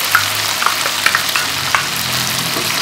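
Beans in their broth sizzle and bubble in a hot pan, with a steady frying hiss broken by soft scraping taps as a spoon stirs them, close and fairly loud.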